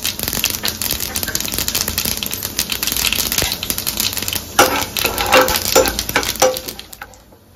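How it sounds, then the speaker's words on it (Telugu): Mustard seeds, cumin, urad dal and chana dal fry in hot oil for a tempering, giving a dense, close crackling and popping that runs steadily before fading near the end. "ఆవాలు, జీలకర్ర, మినప్పప్పు, పచ్చిశనగపప్పు వీటిని దూరగా వేయించుకుందాం."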